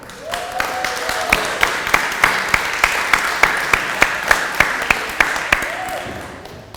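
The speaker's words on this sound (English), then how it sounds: "We want to give a really warm round of applause to our sponsors for today's talk, Lynn Wheeler and Jerry Klauber." Scattered audience clapping at a lunchtime history talk, a steady run of sharp claps that carries on for several seconds, with brief talking at the start and end.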